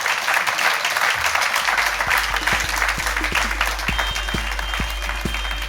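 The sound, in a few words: studio audience applause for Ben Shephard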